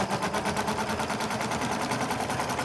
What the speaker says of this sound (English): So I just sew it on.